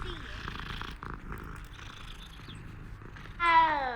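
A cat in Hogwarts Legacy purrs in a low, steady rumble under game ambience and background chatter, then gives a short, louder meow near the end.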